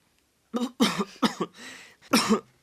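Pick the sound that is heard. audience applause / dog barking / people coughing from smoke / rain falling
people coughing from smoke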